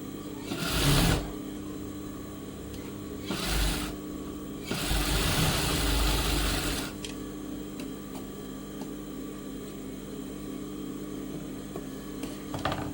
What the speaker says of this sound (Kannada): ಈ ಥರ ಲೈನಿಂಗನ್ನು ಲೈನಿಂಗ್ ಮೇಲೆ ಸ್ಟಿಚ್ ಬಿಟ್ಕೋಬೇಕು